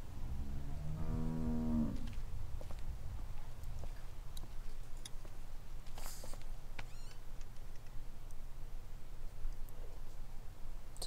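A cow lies in a cramped stall in The Walking Dead video game and gives one low, close moo near the start. Quiet ambient game hiss and faint clicks fill the rest, with no talking.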